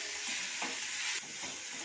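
Khesari greens frying in a pan with a little sugar, a steady close sizzle with soft scraping stirs of a spatula, alone with no talk.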